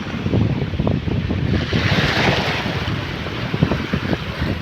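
Sea waves wash and surge along the shore in a continuous rushing roar, mixed with gusty wind buffeting the microphone, loud and close with no voices.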